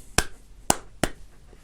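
Three sharp hand claps recorded on a microphone for a reggaeton beat, each a crisp isolated transient, spaced unevenly with brief silence between them.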